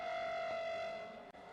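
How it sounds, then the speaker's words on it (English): A steady, droning civil defense air raid siren wails from a distance during a test in Delhi, holding one tone and slowly fading, with a brief dropout near the end. "why the sirens are going off or they're being tested now today"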